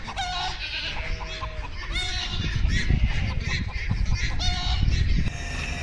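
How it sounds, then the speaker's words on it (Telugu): Chickens in a village near Taif, Saudi Arabia call loudly and repeatedly with clucks and crowing-like cries, overlapping with other farm animal bleats and honks in an outdoor yard. "ఈ కోళ్ళు అయితే భలే పిలుస్తున్నాయి"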